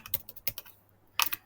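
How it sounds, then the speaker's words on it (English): Quick keystrokes on a computer keyboard: a few scattered taps, then a short burst of clicks after a brief pause, close and fairly quiet with no talking. "I'll just type a quick code."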